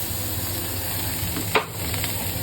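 Bangada (mackerel) fish fries in coconut oil in a pan, giving a steady, close sizzle with a brief scrape of stirring partway through and no speech.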